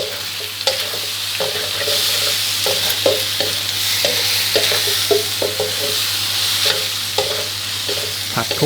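Macaroni with chicken and egg is stir-fried in a pan, with a continuous sizzle and frequent, rhythmic scrapes and clacks of a spatula tossing the noodles nearby.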